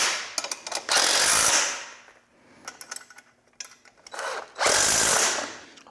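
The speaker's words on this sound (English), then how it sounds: "using our 7/16 socket wrench, we can go ahead and snug those up" A 7/16 socket wrench, apparently powered, runs in two loud whirring bursts as it snugs up bolts on a zero-turn mower dethatcher attachment, with quieter clicks and handling noises between them.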